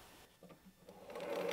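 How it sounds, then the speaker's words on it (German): A sewing machine starts up quietly and builds into a steady hum, stitching the two quilted fabric sides of a bread basket together in a short, faint burst. "Wir nähen beide Seiten einmal zusammen."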